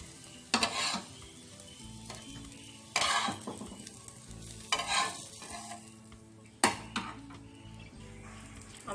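Masala bread toast frying in a pan gives a low continuous sizzle, broken by four loud bursts of spatula scraping and clinking against the metal pan, close and without talk.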